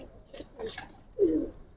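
Pigeons coo in a low, rounded burst near the end, with softer calls earlier, from Giribaz pigeons of Bagha and Silver breeds kept in a loft in Old Dhaka, heard close and alone.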